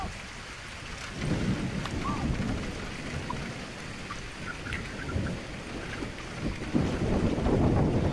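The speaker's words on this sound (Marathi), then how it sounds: "पावसाने जोर धरला होता आणि वाराही सुसाट वाहत होता." Heavy monsoon rain pours steadily at Gadagada fort while strong wind buffets the microphone, a dense continuous roar with gusty low rumbles swelling and easing throughout.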